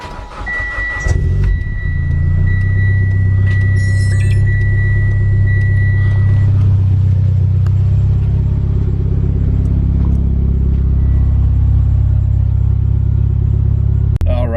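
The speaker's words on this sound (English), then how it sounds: "Nice little morning cold start." A Mitsubishi Lancer Ralliart engine cold-starts on a chilly morning, with a brief crank, then a loud settling rumble into a steady, high cold idle held close by for several seconds.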